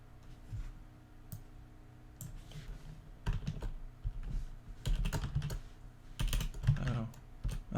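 Quick bursts of typing on an unfamiliar computer keyboard during game programming, close and fairly quiet, with irregular clusters of key clicks growing busier toward the end.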